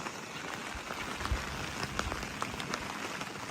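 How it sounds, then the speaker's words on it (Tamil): Heavy rain pours down outdoors during a cyclone, a steady, dense hiss of drops beating on surfaces with scattered louder splats, fairly faint and with no voices over it. "மழை அங்கால நல்லா அடிச்சு ஊற்றி கொண்டு இருக்குது."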